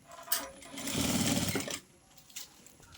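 A sewing machine stitches fabric pieces together in one close, rapid mechanical run of about a second. Brief handling noises come before and after it.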